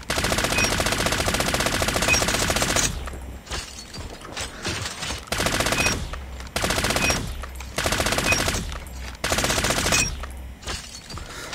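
Rapid automatic fire from the M13 assault rifle in Call of Duty ranked gameplay, loud sustained bursts broken by short pauses, several strings of shots in a row.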